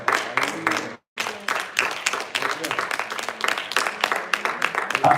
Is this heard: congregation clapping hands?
yes